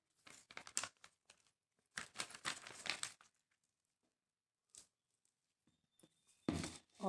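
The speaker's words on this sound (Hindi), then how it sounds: "अब इस तरह से हम एक ज़िपलॉक बैग लेंगे" A zip-lock plastic bag is handled in a home kitchen while making potato snacks, giving bursts of crinkling and rustling in three separate clusters with quiet gaps, close and fairly loud, with no talk.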